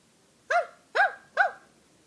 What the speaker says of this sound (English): Little dog goes. Ruff, ruff, ruff.